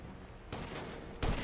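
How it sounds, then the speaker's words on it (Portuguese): Gunfire in the video game GTA V, two or three sharp, loud shot bursts in quick succession, each a broadband crack with a booming low tail, the last one heaviest. "Eu tô dando tiro pra caralho eu aqui."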